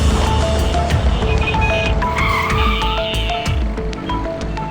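A car brakes to a stop with tires squealing in a tense street scene, the squeal and skid sounding close over engine noise and fading at the end.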